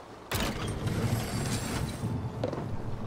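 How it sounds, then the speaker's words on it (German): A wooden pulley mechanism in Assassin's Creed Valhalla kicks in with a sudden clunk, then grinds and creaks steadily for several seconds, with a short rattling click near the end and no speech. "Also gehen wir jetzt erstmal hier rechts den Flaschenzug aktivieren."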